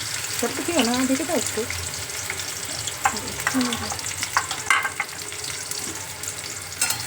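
Onions fry in a pan for egg tadka, giving a lively close sizzle with clattering stirs and scrapes, while a voice briefly sounds near the start.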